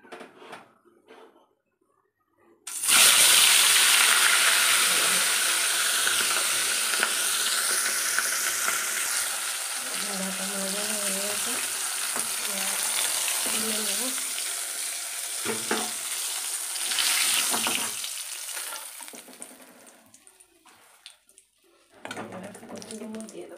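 Fish sizzles steadily in hot oil in a home kitchen, a loud broadband hiss that begins abruptly after a quiet start and continues with occasional spattering, dipping briefly near the end.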